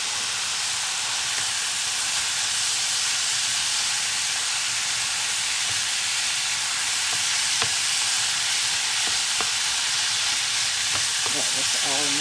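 About a pound of ground beef frying in a hot pan, a steady loud dense sizzle and hiss throughout, with a few scrapes of stirring near the end.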